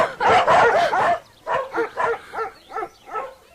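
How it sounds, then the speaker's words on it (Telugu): Dogs bark in a fast burst of loud, overlapping barks, then a run of shorter, spaced yips and barks trailing off, heard up close. "మా కుక్కలు కూడా మీరు నచ్చలేదు, అందుకని అరుస్తున్నాయి."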